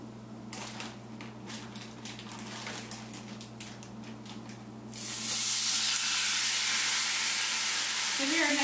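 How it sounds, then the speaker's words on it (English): Chicken sears in a hot pan, starting with a few light ticks and crackles before a loud, steady sizzle bursts up and carries on close by. "Give her a nice sizzle."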